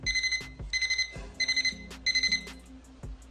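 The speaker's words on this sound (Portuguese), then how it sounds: "O alarme pra ver se você acorda" An alarm clock rings in four quick bursts of rapid electronic beeping, each separated by short pauses with faint knocks between.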